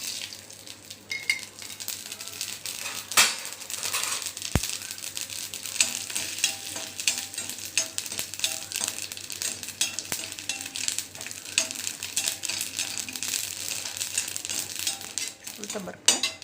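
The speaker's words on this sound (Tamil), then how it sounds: "கொஞ்சமாக எண்ணெய் வச்சுட்டு கடுகு, உளுத்தம்பருப்பு," Mustard seeds, urad dal and dried red chillies fry in a little hot oil, a steady close sizzle with crackling pops and occasional clinks of a stirring spoon against the pan throughout.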